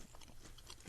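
Someone chews a bite of pecan pie close to the mic, with soft, irregular crunching and mouth sounds that are quiet throughout.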